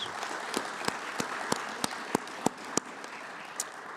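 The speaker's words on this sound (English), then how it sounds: "Let's give them a round of applause." Scattered, well-spaced claps ring out at a graduation ceremony for a restoration academy, about a dozen sharp hand claps over a soft room hum rather than a full, dense ovation.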